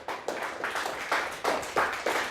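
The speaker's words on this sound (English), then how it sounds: "Nice round of applause for both teams" An audience at a school quiz competition claps for both teams, a short burst of rhythmic applause from a small group with regular, evenly spaced swells, fairly near and moderately loud.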